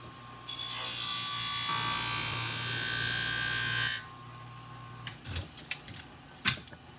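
Scissors for an auto upholstery shop are pressed against a spinning honing wheel, a rising whirring grind that swells and cuts off after about four seconds, followed by a few light clicks and taps.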